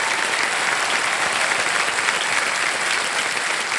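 Studio audience on the KBC quiz show applauding, a loud, dense and continuous roar of many hands clapping at once, steady throughout with no talk over it.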